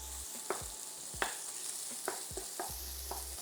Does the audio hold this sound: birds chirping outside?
no